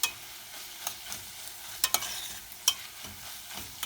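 Tomato paste and spinach roots sautéing in a pan, a soft continuous sizzle with sporadic light scrapes and clinks of a spoon stirring close by.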